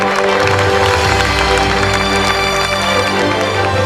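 An audience at a national policy briefing in South Korea claps together in sustained, even applause, a dense wash of hand claps filling the room without letup.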